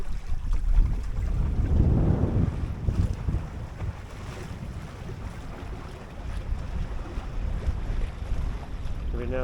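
Wind gusts buffet a sailboat under autopilot steering on Chesapeake Bay, a loud steady roar of wind noise on the microphone with water sloshing against the hull, swelling in a stronger gust near the start.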